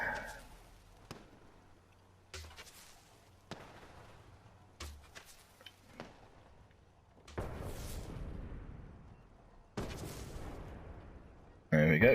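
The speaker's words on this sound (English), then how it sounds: "That's going to set off the fireworks" Fireworks go off from a tower in a building video game, a series of sharp booming bursts spaced a few seconds apart, the later ones fuller and crackling.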